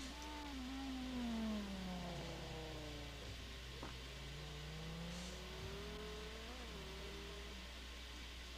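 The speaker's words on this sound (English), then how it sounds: "It's the SVT Viper." SVT Viper GT1 race car engine at Dubai during super pole qualifying, a steady revving drone with pitch rising and falling through gear changes, continuous and fairly close with no talk.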